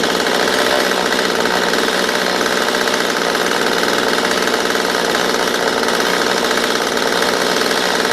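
A Stihl MS 192 TC chainsaw engine screams steadily at full throttle with a constant, dense buzz that holds unbroken and loud for the whole stretch, close to the listener.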